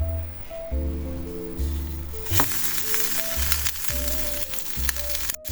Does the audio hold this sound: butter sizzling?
yes